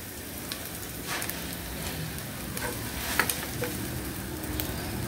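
Adobong kangkong sizzling in a hot pan while being stirred, a steady crackling hiss broken by light scrapes and taps from the utensil.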